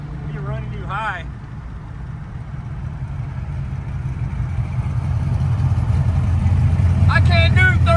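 A supercharged 302 car engine drones steadily, its low rumble swelling louder over several seconds as it runs through the gears, with brief voices talking near the start and again near the end.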